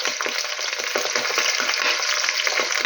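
Peppers fry in oil in a covered pan, a close, even crackling sizzle with rapid popping throughout and no voices.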